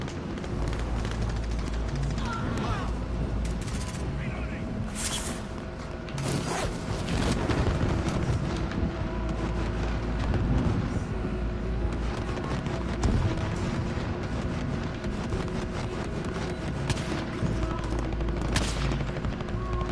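Call of Duty Warzone gunfire comes in dense, continuous bursts of shots and impacts over a loud, busy game soundscape, with heavier bangs spread throughout.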